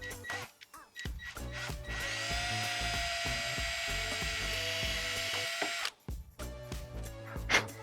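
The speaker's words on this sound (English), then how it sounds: "And then we're just gonna drill" A power drill whirs steadily for several seconds at close range while drilling a hole in a Gen 3 Toyota Tundra, with brief starts and stops of the motor at either end.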